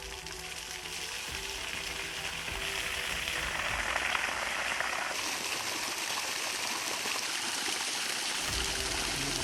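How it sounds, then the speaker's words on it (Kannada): Water from a tanker pours into forest water troughs set out for animals in drought-hit Karnataka, a steady, dense rushing and splashing that carries on without a break, close and fairly loud, with no voices. "ಇಂದು ತೊಟ್ಟಿಗಳಿಗೆ ಟ್ಯಾಂಕರ್ನಿಂದ ನೀರು ಹರಿಸಲಾಯಿತು"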